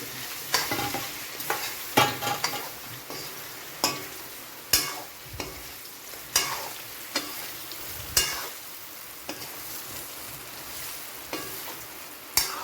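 Curry leaves frying in hot oil, a soft sizzle broken by a string of sharp clinks and scrapes from a spoon stirring in the pan, close and without talk.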